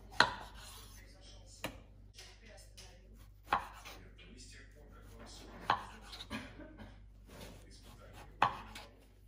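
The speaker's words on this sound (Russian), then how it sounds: "Порежем томат." A tomato is sliced with a knife for a noodle dish, with roughly six crisp chopping knocks at irregular intervals, close and clear over quiet room tone.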